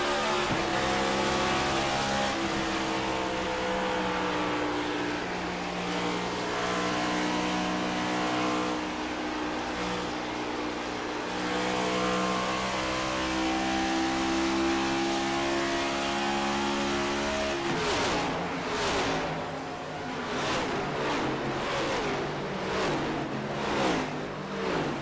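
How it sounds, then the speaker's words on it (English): Stock race cars on the Darlington oval in a Bluegrass Cup Series race, a dense, loud wall of engines holding steady harmonic drones, then rougher bursts of revving and downshift blips near the end as the pack bunches into the corner. "These guys shifting down to 4th gear as they go into 3 and 4 to get the power off the corner."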